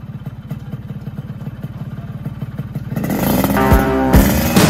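A restored Yamaha RX-King two-stroke motorcycle idles with a rapid, pulsing putter, then revs up loudly for the final seconds, close by.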